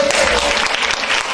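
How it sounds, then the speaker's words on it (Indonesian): Loud, dense congregation applause during a PD Victory church service in Jakarta, a short full burst of clapping that cuts off abruptly at the end. "Tepuk tangan dulu dong."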